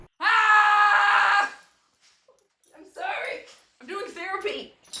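People scream in a loud, sustained primal release on a reality show, one long wailing scream followed by shorter ragged shouts and cries after a pause.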